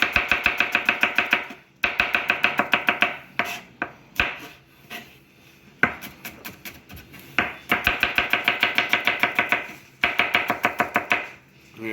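A knife slices an onion thinly on a cutting board in fast, rhythmic bursts of crisp taps, pausing briefly between runs, close and loud with no voices.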